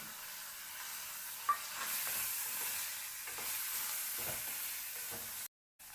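Soaked chickpea palya frying in a pan with salt, turmeric and tomato, a steady soft sizzle with occasional stirring scrapes and a brief clink, with no talking.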